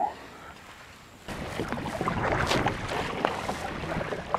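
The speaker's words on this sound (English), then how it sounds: "This is probably the choppiest and windiest I've ever fished in, or paddled in for that matter." Wind buffets the microphone while choppy water slaps and splashes around a fishing kayak on open water, a broad steady rush that swells after a quieter opening second.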